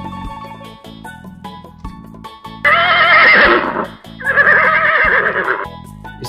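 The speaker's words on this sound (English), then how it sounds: "Horse." Horse neighing in two loud, shaky whinnies over a light musical backing, with no voices.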